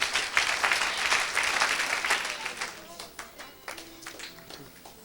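A church congregation claps and cheers at a French-language preaching service, a dense burst of applause that thins into scattered claps, with voices talking over the fading clapping.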